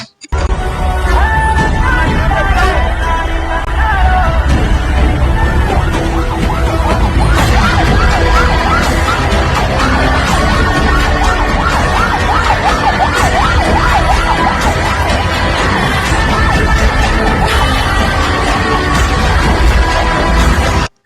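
A 108 ambulance siren wails through heavy traffic at a crowded TVK party conference, loud and close with layered tones over engine noise and crowd sounds, sustained throughout.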